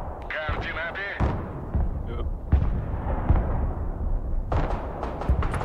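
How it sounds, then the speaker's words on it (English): Artillery fire in the video game Broken Arrow, several heavy booming thuds scattered irregularly through the stretch, mixed with other battle noise and someone talking over it. "Frustrating with this artillery, man."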